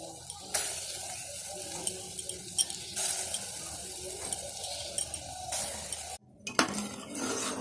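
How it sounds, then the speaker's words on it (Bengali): Date palm jaggery syrup bubbles and hisses in a pot while a utensil stirs and scrapes at it, with soft clinks and a brief dropout near the end, fairly quiet and with no talking. "খেজুর গুড়ের রসটা আমি এইভাবে ভালো করে ফুটিয়ে নেব।"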